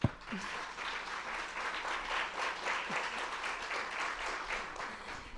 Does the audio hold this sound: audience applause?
yes